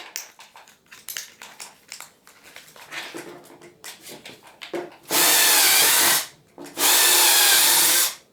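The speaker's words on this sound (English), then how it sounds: "Now I just need to drill it out a little larger." A power drill bores out a pilot hole in wood to make it larger, with two loud, close whirring bursts of about a second each after some quieter handling clatter.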